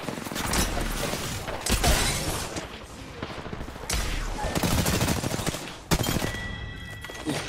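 Rapid bursts of gunfire from an Apex Legends firefight, loud and close, come in dense volleys with brief pauses between them.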